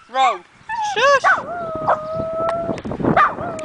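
Puppies howl and whimper up close in a string of rising, wavering cries with short yips between them, and a person speaks softly over them.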